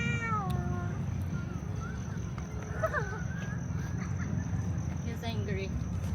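An angry cat in a city park gives a few drawn-out, wavering meows, fairly distant over a steady low rumble of traffic and outdoor noise.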